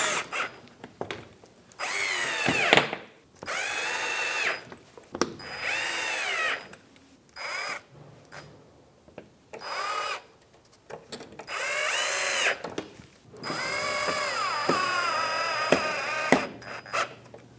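Power driver fastening Phillips screws on a 2007-2015 Mazda CX-9 splash shield, several short whirring bursts with rising pitch, separated by pauses and handling clicks, close and fairly loud.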